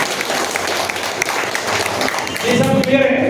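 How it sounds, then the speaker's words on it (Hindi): Applause from a meeting crowd, dense clapping for over two seconds, then a voice starts speaking over the fading claps. "एक जोरदार तालियां उसके लिए।"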